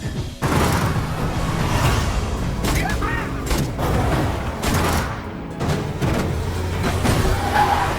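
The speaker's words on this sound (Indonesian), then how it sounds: "para anggota unit 631 mengejar mereka serta menembaki mereka dari kejauhan" Distant gunfire from pursuers in cars shooting during a chase, heard as dense bursts of shots and booms over continuous engine and action noise, loud throughout with a few brief drops.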